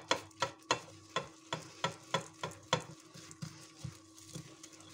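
Baklava dough of flour, oil, vinegar, salt and sugar being mixed and kneaded by hand, with milk added later, giving a steady run of about a dozen close, soft slapping squelches at an even rhythm, with no talk.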